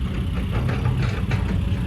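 A tractor idles steadily at a roadwork site where a dirt road is being pushed and compacted, its low engine rumble close and constant with no talk over it.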